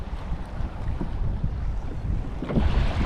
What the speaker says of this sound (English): The wind has definitely picked up a bit